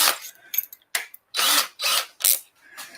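Power drill boring into wood at a craft table, heard as several separate short bursts of whirring, close and fairly loud, with brief pauses between runs.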